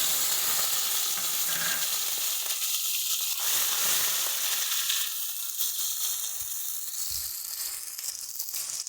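Prawns sizzle steadily in hot oil, a close, continuous frying hiss with faint stirring sounds underneath.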